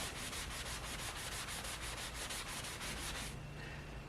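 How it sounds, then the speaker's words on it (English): Rapid, rhythmic scratchy strokes of a 3M sanding sponge rasp back and forth up close, then stop abruptly near the end, leaving a quieter hiss. "this is a 3M sanding sponge"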